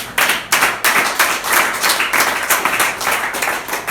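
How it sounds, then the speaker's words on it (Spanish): A church congregation claps for Jesus in rhythmic, fairly loud unison beats, the sharp hand strikes repeating steadily throughout with no talking. "Vamos a aplaudir a Jesús."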